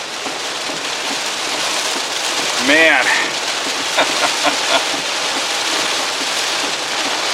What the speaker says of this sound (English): second downpour tonight. I lived through the first one. I ain't sitting through this one